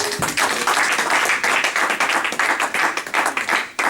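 A church congregation at a prayer and fasting service claps for Jesus, with dense, rhythmic, sustained applause that stays loud and close throughout.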